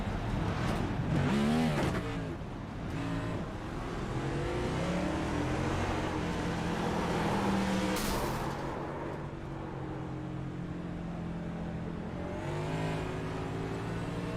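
A Next Gen stock car in a superspeedway racing video game drones from the cockpit view, its engine note rising and falling with throttle changes and a brief sharp burst midway, loud and continuous without speech.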